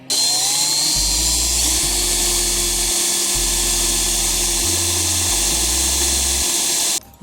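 A power drill bores into a car's custom shifter, a loud steady whine that holds for several seconds and shifts pitch in steps as the load changes, close up, with no talking.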